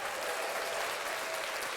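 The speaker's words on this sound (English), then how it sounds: "Give him a round of applause, man." Dense, even applause from an audience fills the moment, a steady wash of many hands clapping without a break.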